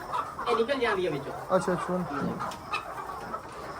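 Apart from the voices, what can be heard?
chicken clucking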